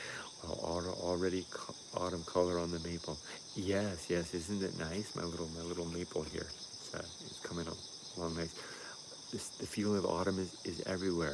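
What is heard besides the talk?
crickets chirping outdoors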